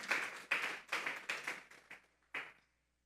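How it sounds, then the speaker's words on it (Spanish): A few hands clapping in a church congregation as an offering to God, six or seven sharp, separate claps in an irregular rhythm, then a gap and one last clap before silence. "Vamos a darle una ofrenda de palmas a Dios en esta tarde."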